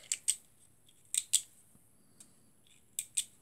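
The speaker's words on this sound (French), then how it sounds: "Comme ceci, je viens couper." Scissors snip through thread after a double knot on a small handmade fofucha craft doll, giving several short, crisp cuts in pairs with quiet pauses between, close and alone.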